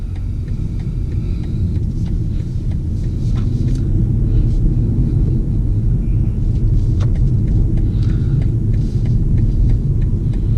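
A 2020 BMW M235i Gran Coupe with a 301-horsepower four-cylinder engine and all-wheel drive is under way, heard as a loud, steady low cabin drone and road rumble from inside the car, with no voices.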